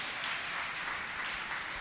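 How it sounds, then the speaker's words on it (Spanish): A church congregation applauds, a continuous wash of clapping from many people that stays even and sustained, with no voices on top. "Démosle un aplauso al Señor, hermanos, porque Él es el que hace todas esas cosas."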